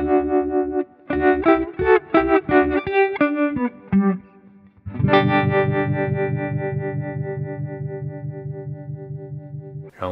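Electric guitar runs through a JAM pedals Harmonious Monk tremolo pedal with depth and ratio turned up: quick chopped note runs, a short gap, then a long ringing chord that pulses and slowly fades, loud and alone.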